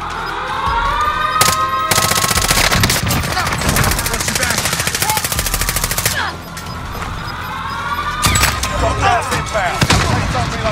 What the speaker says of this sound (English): Enemy soldier incoming. I'm taking fire.